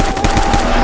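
A dense burst of rapid automatic gunfire from a film battle sequence, loud and close, with shots overlapping in a continuous barrage for under a second and no talk.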